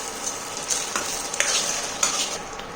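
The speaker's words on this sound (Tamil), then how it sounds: "இப்போ நல்லா வதங்கிட்டு இருக்கு." Masala for a potato kurma sizzles and fries in a hot pan with a steady hiss, broken by a few scraping stirs of a spoon up close.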